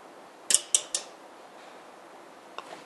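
An R2000 voltage stabilizer clicks on with three quick relay clicks close together, then a pause and further clicks as it switches through its steps, over a faint low hum.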